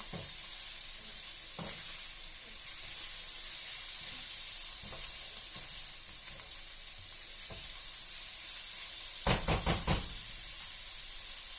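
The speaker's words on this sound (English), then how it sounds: "The dogs don't like the sizzling noises" Pork frying in a pan with a steady broad sizzle and hiss, faint in the background, broken by occasional knocks and stirring clatters, with a quick cluster of knocks near the end, and no talking.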